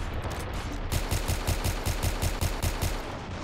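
A nail gun in the Ravenfield video game fires in a fast, evenly spaced burst of sharp shots, about a dozen in a row, loud and close.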